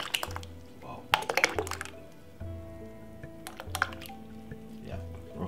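Coconut milk poured from a can into a pot holding water, giving wet glugs, squishy splashes and drips, close and soft, with a voice talking over it.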